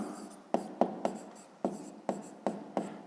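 A pen writes out an answer by hand in a maths exercise, with a series of distinct, close strokes and taps, each starting sharply and fading, in a quiet room with no talking.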